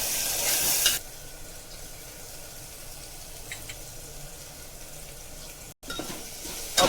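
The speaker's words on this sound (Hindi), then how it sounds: "मसाला भुन रहा है इधर।" Ginger garlic paste and masala fry for keema with a soft, low sizzle and occasional light stirring, after a brief louder burst of hiss at the start, fairly faint and steady.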